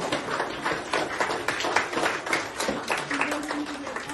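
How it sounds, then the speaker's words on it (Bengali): Children clapping together at a Children's Day celebration in an orphanage, a dense ragged patter of small hands that keeps going steadily, close and fairly loud. "হাততালি দাও।"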